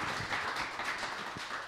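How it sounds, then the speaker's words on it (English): Faint, steady audience applause for guest James at the close of a live Web3 industry interview event, a soft continuous patter of clapping with no voices over it. "let's give a round of applause for James and his generosity with ideas today"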